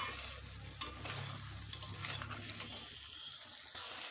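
Okra and sesame masala stir-fried in a pan: a soft sizzle under repeated scraping and clinks of a spatula against the pan, irregular strokes, close but fairly quiet, no one speaking.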